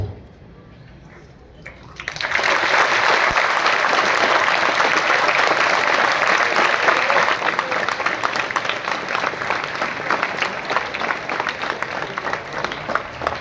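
After a quiet start, a school audience at an annual prize-giving ceremony breaks into loud, dense applause that holds steady for over ten seconds.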